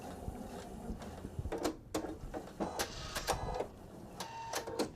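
A sewing machine stitching quilt half-square triangles runs in short, quiet bursts of fast mechanical clatter, stopping and starting with no talk over it.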